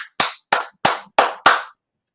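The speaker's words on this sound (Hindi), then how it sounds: "देवियों सज्जनों, जोरदार तालियों में स्वागत कीजिएगा कोंडो-सान का" Five sharp, separate claps ring out in an even rhythm, close and loud against silence, as an audience welcomes a speaker at an event.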